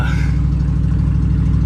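A carbureted 1980s Jeep truck engine running just after a cold start, loud and close with a steady low rumbling idle and faint higher hiss.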